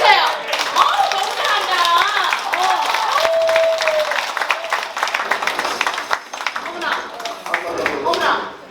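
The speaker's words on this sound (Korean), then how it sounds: "여러분 박수 좀 주세요." An audience applauds at an anniversary celebration of the writer Kim Yu-jeong's birth, giving sustained clapping with a few cheers while a performer's voice carries over it.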